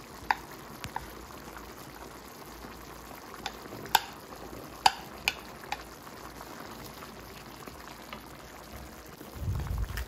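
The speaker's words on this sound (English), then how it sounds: "Mix it well." Baby potatoes and carrots in a Filipino-style olive beef stew are stirred in the pot, with a low simmering bubble and a few scattered clinks and scrapes, fairly faint, ending in a louder rustle.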